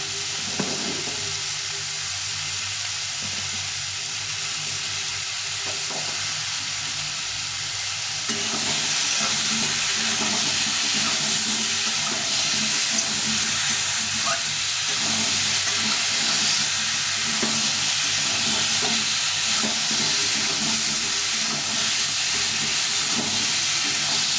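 Raw mango pieces with panch phoron spices frying in oil for pickle, stirred now and then. A loud, dense, continuous sizzle runs throughout and grows stronger partway through, with no voices.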